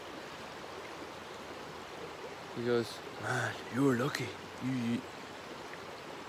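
A river flows nearby along a fishing stretch as a steady, even rushing wash throughout, with someone speaking briefly over it in the second half.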